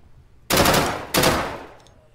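Two loud bursts of gunfire in the video game Deadside, sharp attacks each ringing out and decaying, the second following about half a second after the first, with no talk.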